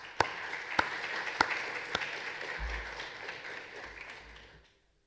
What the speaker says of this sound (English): you need to clap for yourself.